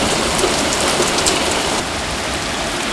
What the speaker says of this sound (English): some 3 to 4 inches of rain, a 2 months average, fell in less than 24 hours